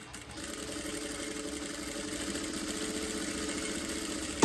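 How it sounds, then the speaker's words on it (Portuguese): Home sewing machine running a steady stitch along a seam for a small cell-phone pouch, a continuous even motor whir with a brief louder knock at the end, close and alone. "Vou voltar minha máquina lá pro ponto 4, que é o que eu estava costurando."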